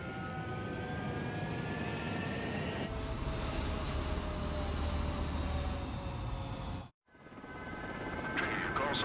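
Fighter jets taking off in Ace Combat 7: Skies Unknown, a steady loud roaring engine wash with whining tones sliding across it, broken by a sudden brief dropout before the roar swells back up.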